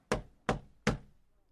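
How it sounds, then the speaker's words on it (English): Three firm knocks on a wooden door, evenly spaced and close by, each a sharp thud with a short decay, followed by quiet. "Someone knocked on Richard's door."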